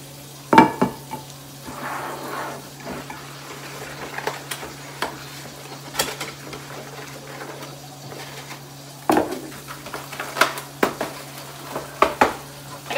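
Two eggs being beaten for corn dog batter, irregular clinks and quick scraping strokes of a utensil against a bowl, coming in short bursts with pauses between, close and fairly quiet.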